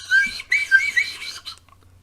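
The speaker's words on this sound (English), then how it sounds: "like I am doing right now with this terrible slide whistle" A slide whistle plays a few short, wavering, sliding notes, close and fairly loud, with brief gaps between phrases before it trails off into quiet.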